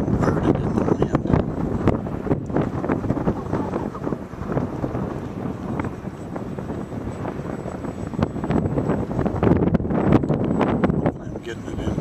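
Steady, loud wind buffeting the microphone outdoors during a flight of an RC T28 model plane flying inverted in gusty conditions, a constant rushing roar with no clear engine tone standing out.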